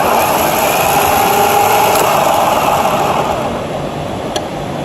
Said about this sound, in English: Now let's listen to the good starter motor.